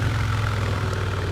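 A steady, loud 2022 Harley-Davidson Sport Glide motorcycle engine drones at a constant pitch for a moment, a low rumble with no clear rise or fall in revs.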